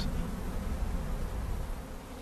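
Honeybees from a varroa-afflicted colony give off a steady, dense buzzing, close and constant for the whole moment without breaks.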